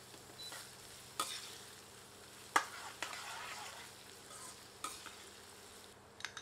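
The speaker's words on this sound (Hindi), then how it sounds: "प्याज को मीडियम हीट पर भूनकर सुनहरा कर लेते हैं।" Onions fry in oil with cumin over medium heat while being stirred, giving a faint, steady sizzle broken by a few sharp scraping stirs.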